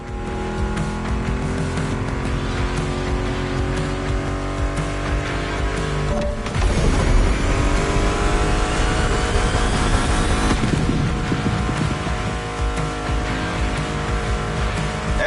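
Muscle car engines rev and roar in a racing video game, a steady loud drone of layered engine tones with a sharp swell and shift midway, mixed under a music soundtrack, with no talking.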